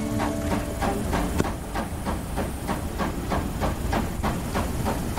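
A steam train in a Roblox Wild West game, rolling continuously with a loud hissing roar and a regular rhythmic chuffing beat throughout, close and steady.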